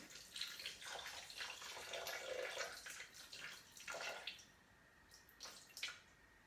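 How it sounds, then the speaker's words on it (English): Roughly 100 grams of water is poured into a cooking pot holding browned chicken in yoghurt, giving a soft, close splashing and trickling that comes in uneven bursts, fading to faint drips near the end. "add 100 grams of water"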